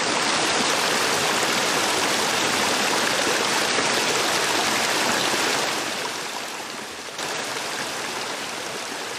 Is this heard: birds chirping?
no